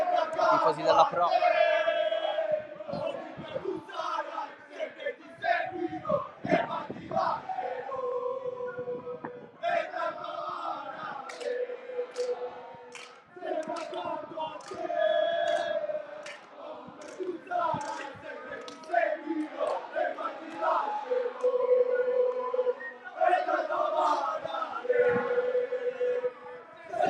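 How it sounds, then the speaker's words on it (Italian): Pro Favara football supporters chanting and shouting in the stands at an Eccellenza Sicilia match, a rhythmic crowd of voices that rises and falls over about half a minute, heard from a distance. "Eccoli qui, i tifosi della Pro."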